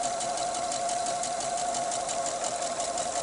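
A sewing machine with a blade foot sews a seam along entredeux trim, giving a continuous close whirring drone with a fast steady needle rhythm throughout and no talk.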